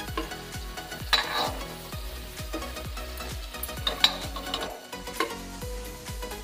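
Potato pieces frying in oil in a pan until light brown, for an Odia mutton and potato curry; a steady close sizzle with repeated scraping stir strokes and a few sharp utensil clinks, no talking.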